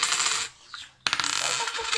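Coins drop and clatter onto a hard surface, a bright metallic jingle, then a short quiet gap before another burst of rattling coins.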